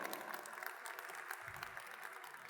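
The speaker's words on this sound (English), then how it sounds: "why don't we start by you giving yourselves a round of applause?" Audience applause at a tech festival session: a steady, dense wash of clapping from a sizeable crowd, moderately distant and even throughout, with no talk over it.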